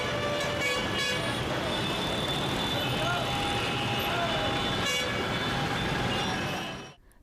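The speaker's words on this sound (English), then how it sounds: "the repeated hooting of horns by impatient drivers assault the ears of" Car horns toot repeatedly over a steady roar of road traffic, with several honks at different pitches before the sound cuts off.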